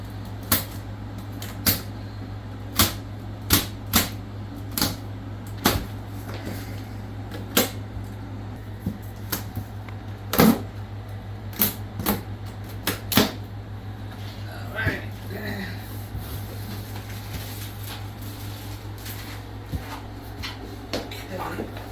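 A blade slices through a cardboard box along its dotted line while a step climber is unpacked, giving a series of sharp close clicks and scrapes over a steady low hum.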